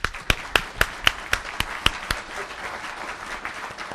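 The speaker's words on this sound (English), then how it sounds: "let's give them a round of applause." The audience at a 2012 mayoral debate in Blythewood, South Carolina, gives a round of applause: sharp, separate claps land in a quick rhythm at first, then fade into a softer, scattered patter.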